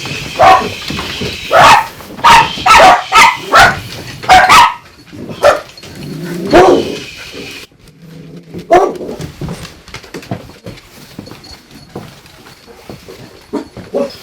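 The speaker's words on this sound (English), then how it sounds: "There's some dogs out right now because the seller's still moving out" Several dogs bark in a quick burst of sharp, close barks inside an empty house while the seller is moving out, then fall to a few scattered yips and whimpers before going quiet.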